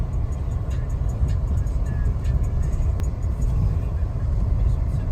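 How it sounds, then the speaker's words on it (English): A car rolling down a rough, sketchy dirt road, heard from inside as a continuous heavy low rumble of engine and tyres with steady road noise and no pauses, loud and close. "we drove down this like really sketchy dirt road"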